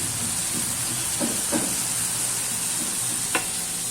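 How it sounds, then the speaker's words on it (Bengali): Eggplant frying in oil in a pan, a continuous close sizzle with occasional soft stirring scrapes and small pops; no voices. "যে বেগুনটা ভাজা হচ্ছে তেলে, লাল লাল করে ভাজা হবে"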